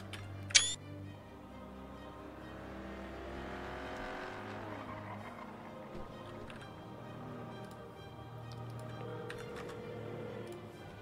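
A car doing spins in the video game GTA, a steady engine drone with rising and falling revs over a low hum, plus a sharp click near the start and a few faint ticks.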